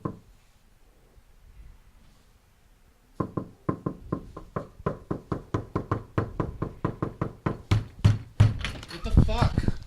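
Steady rapid knocking on an apartment door, a long run of close, sharp raps that grows louder and harder toward the end, with brief talk at the start.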